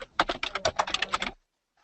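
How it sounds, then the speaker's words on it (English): Fast typing on a computer keyboard, a quick run of roughly a dozen close, crisp key clacks in an uneven rhythm, then silence before a faint final tap, with no talk. "She's typing with purpose."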